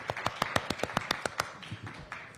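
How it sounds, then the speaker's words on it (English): An audience at a panel session gives a short round of clapping, a dozen or so crisp, close claps in a steady rhythm, thinning out toward the end. "Give them a round of applause."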